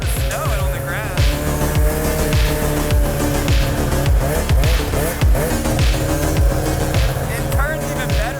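A two-stroke snowmobile engine runs loud and close while the machine drives across grass instead of snow, its steady roar rising and falling with the throttle, and a voice talks over it.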